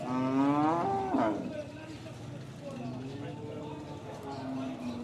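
A cow at a busy livestock market lets out a long, loud, close moo with a rising then falling pitch, followed by fainter lowing as crowd chatter and voices continue underneath.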